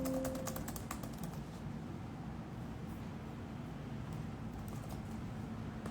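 Laptop keyboard typing: a fast run of light clicks near the start, then sparser taps over a steady background hum.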